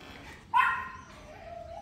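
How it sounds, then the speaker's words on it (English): A dog gives a single short, high yip or whine, close and clear, with faint background noise after it. "Dogs can hear me talking and they're carrying on."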